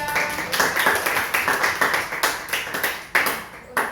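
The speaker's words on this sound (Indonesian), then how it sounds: "Kita berikan aplaus untuk kelompok 3." Classroom applause for a presenting student group, a burst of roughly eight uneven claps from a small crowd, moderately close and steady, with no talking over it.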